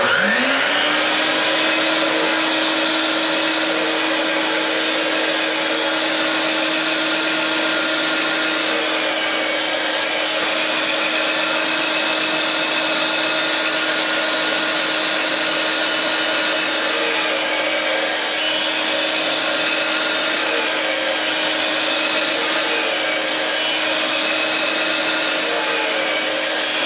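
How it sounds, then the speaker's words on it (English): A shop vacuum collecting sawdust beside a lathe while an elm bowl is turned in a woodshop, droning at a steady whine for the whole stretch, loud and close, with faint scraping in the background. "When that comes on, runs the vacuum."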